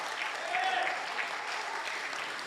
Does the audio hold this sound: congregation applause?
yes